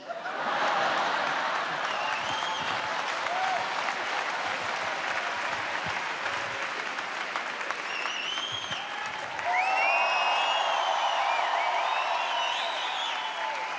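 A comedy show audience applauds steadily for about fourteen seconds in a dense, loud wash of clapping, with scattered chuckles and whoops, and the applause briefly swells near the end.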